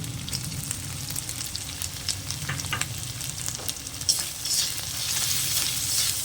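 Ground spices with salt, hot chili powder, Kashmiri chili powder and turmeric sizzle and fry in a pan for a Bengali dish, stirred with steady scraping and crackling heard up close, with no talking.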